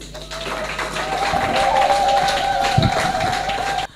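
Audience applause at a French-language gathering of a women's peace federation in the DRC, with dense steady clapping that swells and holds for several seconds before cutting off, and a sustained tone running underneath.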